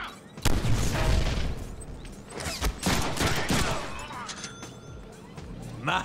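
A grenade blast and sharp gunfire volleys from a Deadpool video game, with heavy booming impacts and crashing bursts layered over a voice talking throughout.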